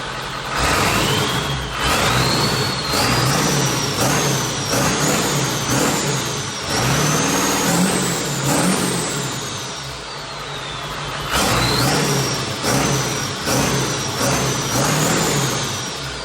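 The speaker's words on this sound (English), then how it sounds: "how much that custom intake amplified the sound of the turbo" A 7.3 Powerstroke diesel in a Bronco build, running with its turbo, custom intake and air filter fitted, revs repeatedly with a loud whistling turbo spool that rises and falls in pitch over a steady rumbling idle, close up, with no talk.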